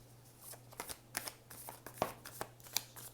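A deck of tarot cards is shuffled by hand in a steady series of soft riffles and flicks, close and clear, with a dozen or so crisp card snaps spread over a few seconds and no talking.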